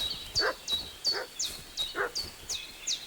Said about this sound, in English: You can hear doggy barking.